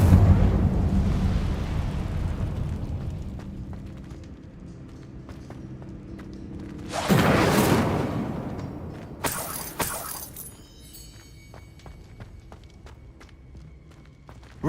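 The Incendio fire spell is cast in Hogwarts Legacy: a loud whooshing flare of flame erupts mid-way after quiet footsteps, followed by a sharp crackling burst and fading debris clatter.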